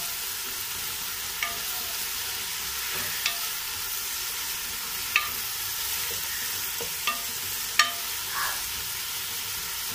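Onions with salt sautéing in a pan for Kozhikode beef biryani, a steady soft sizzle with occasional sharp clicks of a utensil stirring against the pan, close and alone.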